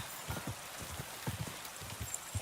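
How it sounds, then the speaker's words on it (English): Light rain falls in the video game Kingdom Come: Deliverance 2, soft and fairly quiet, with scattered drops patting on surfaces and a few low thuds under the steady hiss. "this a lovely rainy day"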